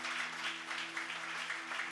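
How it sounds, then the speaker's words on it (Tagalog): Applause at a church worship and miracle night service, a continuous patter of many hands clapping together in a room with a faint steady hum underneath. "Palakpakan natin ang Panginoon."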